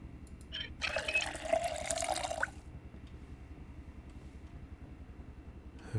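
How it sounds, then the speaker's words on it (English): Water runs from a tap to fill a container in Project Zomboid, a steady hiss lasting under two seconds over a low rumbling background. "And we'll just fill up our water."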